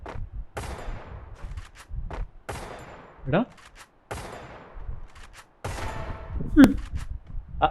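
Bursts of gunfire in the Free Fire battle royale game, several rapid volleys and sharp single shots spread across the stretch, loud and close, with a player's voice talking over parts of it.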